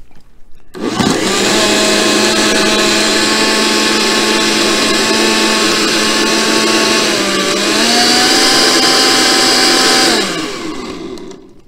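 A blender whizzes a shake with ice cubes, starting abruptly and holding a loud, steady motor whine for about nine seconds. Its pitch rises partway through before the motor cuts off and winds down.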